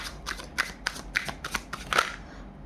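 Tarot cards are shuffled by hand in a series of soft, quick papery riffles and slaps, close but quiet, in an irregular rhythm of about eight strokes.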